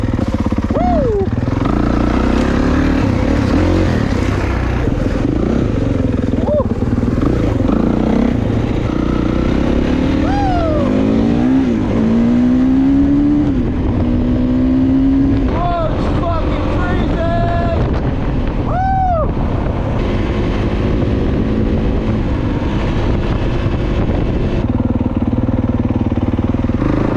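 A pit bike engine revs on a backyard dirt track, its pitch rising and falling under heavy wind buffeting. A voice is heard now and then.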